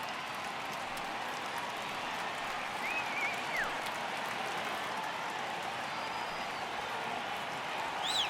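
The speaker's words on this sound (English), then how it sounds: "Crowd gets up for the 3-2." A virtual stadium crowd at a Marlins home baseball game in MLB The Show 18 swells with a steady, broad roar of cheering and clapping at a full-count pitch, with a few faint whistles rising above the wash.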